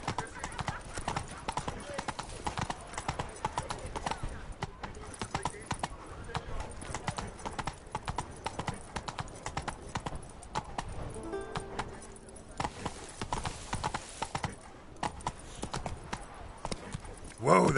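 Roach, the horse in The Witcher 3's Blood and Wine, clip-clops at a steady walking rhythm across the scene, hooves close and distinct over game music and ambience, with a brief whinny and voices talking over it.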